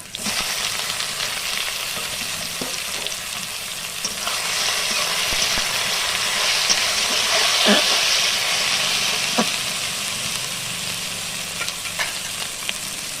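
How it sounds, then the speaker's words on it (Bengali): Taro stolons sizzling with browned onions in a frying pan, a constant loud hiss and crackle with scattered spatula taps and stirring scrapes. "পেঁয়াজটা একটু লাল লাল হয়ে উঠেছে, এবার আমি লতি দিয়ে দিচ্ছি।"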